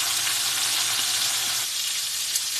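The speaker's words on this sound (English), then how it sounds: "that's butter and a little olive oil. Butter and olive oil. In the skillet." Butter and a little olive oil sizzle and fry steadily in a hot skillet, a dense, even hiss heard up close without any talk.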